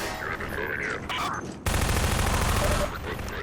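Gunfire and a grenade blast in a shooter video game, first scattered shots, then a dense roaring burst of fire and explosion that stops abruptly, with a voice talking lightly in the background.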